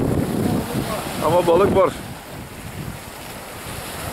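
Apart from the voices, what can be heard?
strong wind and waves at Kadırga bay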